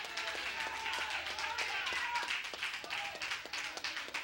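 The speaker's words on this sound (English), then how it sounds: "clap your hand and praise him" Church congregation clapping hands in praise, a steady rhythmic clap pattern under a loud voice, crowd sound filling the room.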